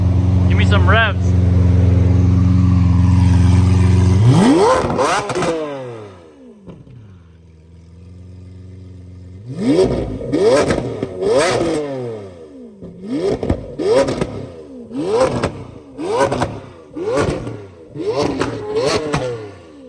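A powerful Lamborghini Aventador engine with an aftermarket exhaust idles loudly, cuts out, then snarls through a series of sharp revs that climb and fall in quick bursts.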